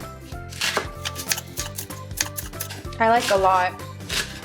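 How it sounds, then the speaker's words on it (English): A knife slices green onions on a cutting board, a run of quick, crisp taps repeating in a steady rhythm up close, heard beneath a person speaking and light background music. "I'm gonna slice some green onions."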